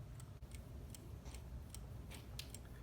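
A Howard Miller bracket mantel clock with a 1987 Hermle 340-020 movement ticks in a steady, even rhythm, close up and fairly quiet against a low room hum.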